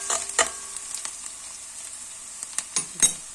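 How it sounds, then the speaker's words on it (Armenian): Chopped onion frying in hot oil in a pan, a steady soft sizzle broken by a few sharp clinks and scrapes of stirring, close and fairly quiet, with no voices. "Սոխը մի լավ տապակվեց"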